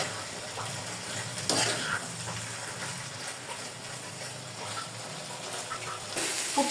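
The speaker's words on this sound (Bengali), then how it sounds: "মাংসগুলোর সাথে পেঁয়াজগুলো মিলিয়ে নিব এবং ভালো করে ভাজা ভাজা করে নিব" Meat and onions stirred and fried together in a pan for meat pitha give a steady, close sizzle, with a utensil scraping and clinking in a couple of short bursts and no talking.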